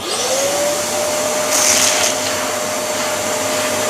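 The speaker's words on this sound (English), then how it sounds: "I'm going to use vacuum cleaner to vacuum out the coffee bean" A vacuum cleaner whirs up to a steady high-pitched drone close by, sucking coffee grounds out of the burrs of a DF54 coffee grinder, with a brief rattling suck partway through.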